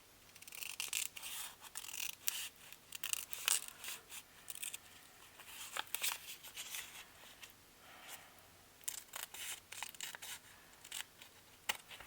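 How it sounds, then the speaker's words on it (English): Small snips cutting open a paper envelope, a quiet, close series of crisp snipping clicks and papery crunches in irregular bursts. "I hardly ever use these little snips, but we are going to today."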